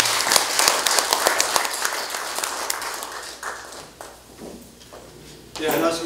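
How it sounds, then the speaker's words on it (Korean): An audience at a symposium event claps in dense, sustained applause to welcome a speaker, fading after a few seconds before a voice takes over. "큰 박수로 환영해 주시면 감사하겠습니다."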